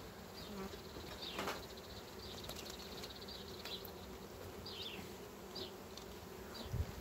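Honey bees buzz in an opened hive, a steady low drone that stays faint and even throughout, with a few slightly louder passes of single bees and no talking.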